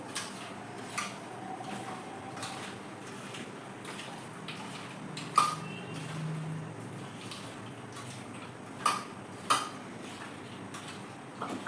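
Spoon clinking and scraping in a metal pot while turmeric is mixed into food, faint, soft scraping with a few sharp taps spaced through the clip, no talk.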